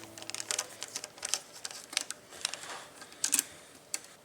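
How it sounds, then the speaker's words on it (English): A single screw being worked out of the back cover of a KitchenAid stand mixer, with repeated small metallic clicks and ratcheting taps close by, irregular and fairly quiet. "Step 2 is remove this single screw in the back of the cover."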